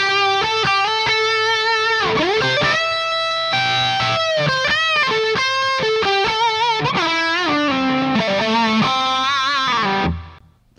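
A distorted electric guitar plays a melodic line with sustained, bending notes, washed in reverb that lets each note ring and trail away at the end.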